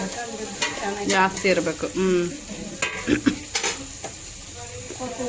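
Onion and fenugreek leaves fry and get stirred in a pan for a fenugreek kadubu dish, a steady sizzle with scraping strokes of a spatula while someone talks over it.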